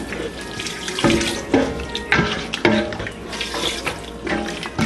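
Water runs steadily from a tap into a pot, with a few splashy surges and a bright, close rushing sound.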